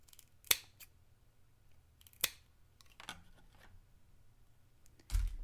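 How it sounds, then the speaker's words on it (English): Scissors snip through material while shaping a flat edge for a miniature costume piece, a few crisp, isolated cuts spaced out in a quiet room, followed by a soft handling thump. "Where are all my not good scissors?"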